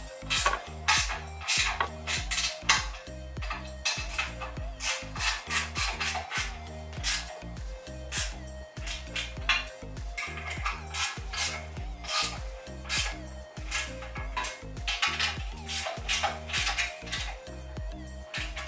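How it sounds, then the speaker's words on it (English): A ratchet clicks in quick, steady repeated strokes while tightening winch bolts on an AFN bull bar fitted to an Isuzu Mu-X, close and clear with short pauses between runs and no talking. "Just tighten down these four winch bolts."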